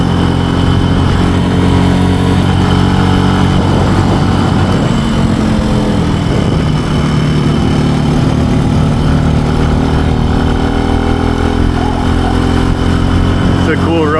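Benelli TNT135 motorcycle engine on a ride, a steady loud buzzing drone throughout with slight rises in pitch, heavy wind noise, and a rider talking over it.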